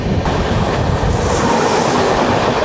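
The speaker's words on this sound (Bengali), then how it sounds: "চলে আসছে ট্রেন নাম্বার বারো হাজার আটশো উনচল্লিশ মুম্বাই হাওড়া মেল ভায়া নাগপুর" The Mumbai–Howrah Mail running via Nagpur passes at close range with a loud, steady rumble and constant wheel clatter throughout.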